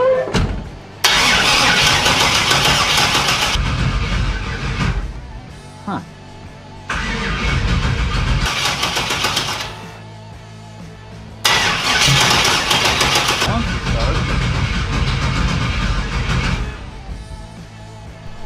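A turbocharged Chevrolet Nova engine is cranked repeatedly, each attempt a loud burst of starter whir and roaring catch that dies back to quieter gaps, with voices talking in between.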